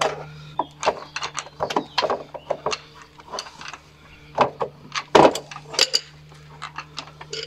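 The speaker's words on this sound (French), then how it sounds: "Alors moi ce que je fais, j'utilise toujours un cliquet." Ratchet wrench clicking while undoing two screws on a 1996 Honda Civic EK3 under restoration, in short bursts of close, crisp metallic ticks with faint background hum and a brief clank.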